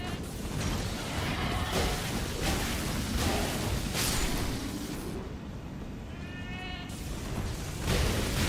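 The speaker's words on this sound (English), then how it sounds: "Surely you don't hear the goat that's infiltrated your barracks." In the Elden Ring video game, a goat bleats through a dense, loud wash of game noise, rumbling impacts and crashes, with a short wavering bleat standing out partway through.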